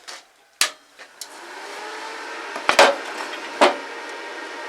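Arc welding with a 3 mm electrode at 100 amps in a workshop: a few sharp knocks and taps give way to a steady, harsh buzzing crackle with occasional louder pops as the arc burns. No one speaks.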